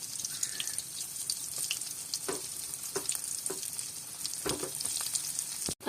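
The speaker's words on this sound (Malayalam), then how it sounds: "എണ്ണ നന്നായിട്ടൊന്ന് ചൂടായിട്ട് നമുക്ക് ഈ വെണ്ടക്ക അതിലിടും." Okra pieces frying in hot oil in a pan, giving a continuous faint crackling sizzle broken by several soft scrapes and knocks of a stirring spoon, close by with no talking.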